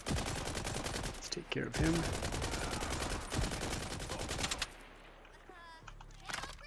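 Video game gunfire in Borderlands 4, with rapid automatic bursts and repeated shots packed closely for about four and a half seconds, then falling away to quieter game sounds. Someone talks briefly during the shooting.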